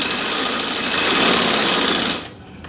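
Sewing machine stitching trouser fabric, a fast, steady mechanical whirring with an even rapid pulse, loud and close, running for about two seconds before slowing and stopping.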